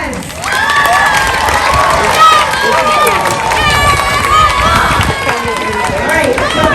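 Children at an elementary school fifth-grade graduation shout and cheer loudly and continuously, a steady crowd roar with high excited voices and only faint clapping underneath.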